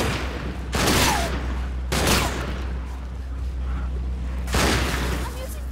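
Foam weapons firing in Sunset Overdrive: three loud, separate bursts of rapid shots over a constant low rumble of game noise.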